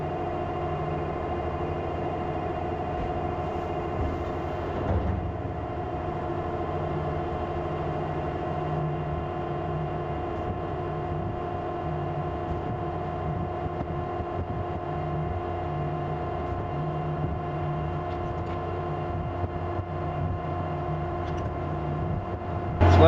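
Feed mixer blending corn silage for cows, a steady droning engine hum with a constant low rumble and repeating mechanical churning, continuous throughout at moderate distance with no talk.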